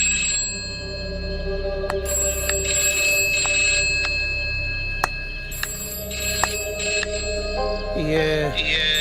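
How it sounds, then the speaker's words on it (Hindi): A landline telephone rings in a home during a Hindi film scene. It gives repeated bright, bell-like tones with steady ringing overtones over a low background hum, and a brief voice-like sweep comes near the end. "ये फिर से घंटी बजी।"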